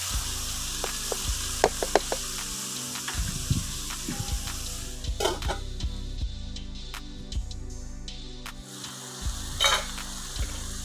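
Tomatoes sizzle and fry in a pan for Indian egg bhurji, a steady close crackle broken by the scrape and clink of stirring and a few sharp knocks of a utensil against the pan.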